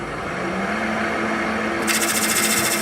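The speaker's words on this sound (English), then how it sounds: "I'm going to make a tenon right over here, smaller tenon, and part this off" A wood lathe turning a tenon on a workpiece, with a steady high whirring hum and a sharper, brighter cutting rasp joining near the end, close and alone.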